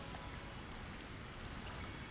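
Steady rain falls in the video game Sky: Children of the Light, a soft, even, faint patter with no breaks and no other sounds.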